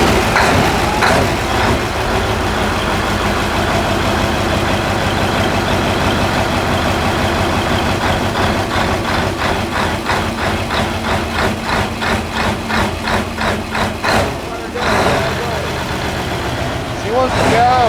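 A diesel semi truck engine runs loud and close, a heavy low rumble with rapid rhythmic pulsing that rises and falls as it is revved, and a brief lull near the end before it picks up again.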